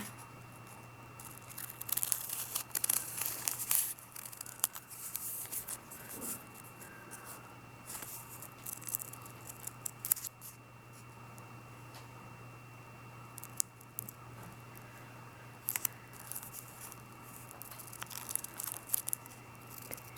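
Scissors snipping through paper folded two or three times, a series of close, quiet cuts and crisp paper rustles scattered irregularly, with faint steady hum beneath and no talking.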